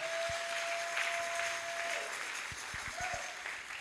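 A church congregation claps steadily at a French-language service, a full, sustained wash of applause that fills the room from start to finish, with a faint held tone underneath.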